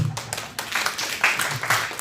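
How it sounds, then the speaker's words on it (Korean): A small church youth congregation claps together in a dense, uneven patter that holds steady for a couple of seconds, fairly loud and close. "박수."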